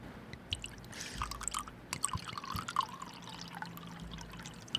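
Rosé wine (Roscato Rose Dolce) poured from a bottle into a glass, giving a quiet, steady liquid pour with soft splashy trickling and a few drips throughout, with no talking.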